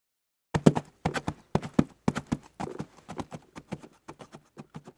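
Horse hooves clip-clop in a steady walking rhythm of sharp, close, moderately loud knocks after a brief silence, with no other sounds.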